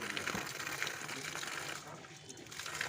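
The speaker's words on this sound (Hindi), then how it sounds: "साफ पानी आ रहा है" Water wells up from a freshly dug electrical earthing pit filled with soil and sand, a steady low gushing and bubbling wash that holds throughout with no pause.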